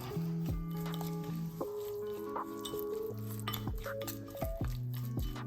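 Olive oil, salt and dried parsley being mixed as a marinade for sea bass, with soft spoon clinks and scrapes against a small bowl in quick, uneven strokes, close and quiet.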